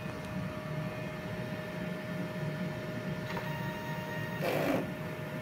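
A DTF printer runs a head clean cycle after its print head was replaced and with capping in fair condition, giving a steady mechanical hum with faint tonal whine, a brief louder whir near the end.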